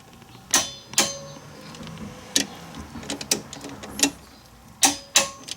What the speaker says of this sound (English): So we're torquing the caliper bracket bolts to 20 foot-pounds of torque.